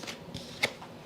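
Tarot cards shuffled by hand at close range, a brief flurry of riffling with a sharper snap near the end, quiet and alone with no talking.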